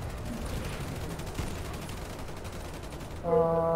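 Rapid, continuous bursts of video game gunfire in Warface rattle on steadily at moderate loudness, ending as a brief electronic tone cuts in.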